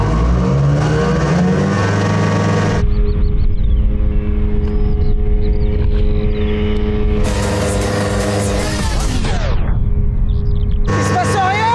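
A car fitted with a propeller accelerates at full throttle from a standstill as its brakes are released. A loud, close engine drone holds steady, then rises in a whining sweep and cuts off abruptly.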